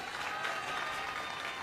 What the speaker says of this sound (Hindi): एक बार ताली बजा